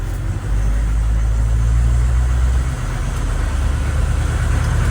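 A 1986 AM General HMMWV drives along with a steady, loud low engine drone and road rumble heard from inside the cab, with no talk.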